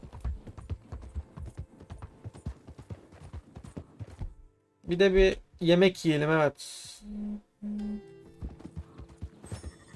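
Rhythmic hoofbeats of a horse ridden in Red Dead Redemption 2 plod along at a steady pace, broken midway by loud whinnying and snorts, while a man chats throughout.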